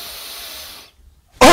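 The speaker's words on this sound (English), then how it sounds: "Breath in." A deep inhaled breath during a solar plexus crystal activation, a soft airy hiss lasting under a second that fades into near silence before a sudden loud burst at the end.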